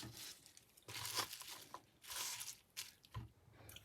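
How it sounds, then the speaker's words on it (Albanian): A knife cuts fresh parsley finely on a board, soft crunchy squishing chops in short uneven bursts with brief pauses, close and quiet. "Tani do t'i pres imët."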